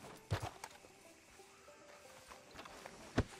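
Horse hooves clip-clop in Red Dead Redemption 2, a few uneven, close hoof knocks spaced irregularly over a quiet ambient background.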